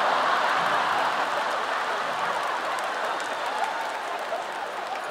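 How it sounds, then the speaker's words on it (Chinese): A large concert audience at a stadium show applauds in a sustained, rain-like wash of clapping that fades slightly toward the end. "掌声掌声"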